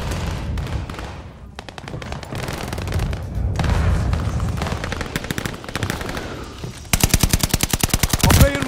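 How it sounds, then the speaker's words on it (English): Mortar fire and other weapons in the shooter game Call of Duty: Vanguard, with heavy booms and bursts of rapid gunfire, ending in a loud sustained automatic volley, with faint voice chatter underneath. "Mortar's loaded. Call a shot."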